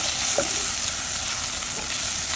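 Ginger and garlic aromatics frying in oil for polau, a dense, even sizzle holding steady and close with no voices.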